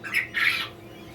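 Newly hatched chicks inside a CT180 hatching incubator give two quick, high squawking chirps close by, the second one longer and louder, followed by quiet background hum.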